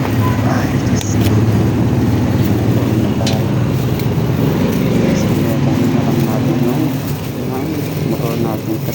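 A Motorstar Cafe 150 motorcycle rides through light rain, its steady engine drone and road wash loud and continuous while people talk over it throughout.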